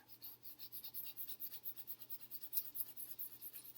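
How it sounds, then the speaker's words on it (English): A pencil end rubbed back and forth over a relief printmaking block to transfer a drawing, a faint, steady rhythmic scratching rasp of quick repeated strokes. "I'm going to kind of like do a rubbing or a transfer onto the block."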